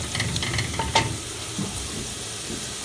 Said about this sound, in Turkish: Soğanımı, biberimi, sarımsağımı kavurdum.